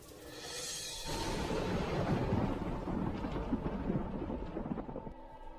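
A cartoon thunderstorm at night: loud rumbling thunder with heavy rain and wind runs continuously, swelling after the first second and easing near the end.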